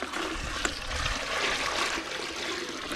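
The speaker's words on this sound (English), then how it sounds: "So I'll just pour some of the water out of the big tub into the smaller tub" Water poured from a big tub into a smaller tub while cleaning a Wagner XVLP 5000 paint sprayer: a steady, close splashing gush with gurgling and trickling that runs throughout, loud and without speech.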